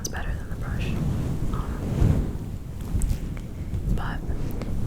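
A fuzzy windscreen cover on a microphone is rubbed close up, giving a steady, soft broadband rush like distant ocean waves, with a few faint whispery touches throughout.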